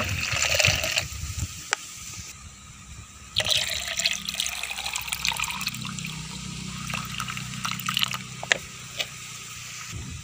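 Water trickles and splashes into a plant pot in uneven pours with dripping, close by, with small clinks and handling noises between.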